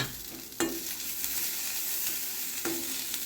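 Boiled potato and cooked dried green peas are stirred into sizzling onions in a pan for samosa filling, with a steady frying hiss and two distinct spoon scrapes, no talking.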